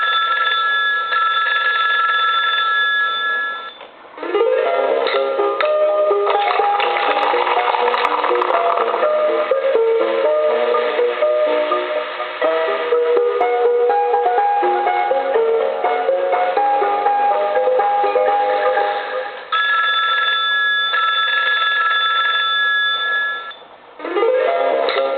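An animated Coca-Cola polar bear novelty telephone rings, its electronic ringing tones repeating steadily and loudly over about twenty-five seconds, broken by two brief dips, with a busy layered tune-like pattern in the middle.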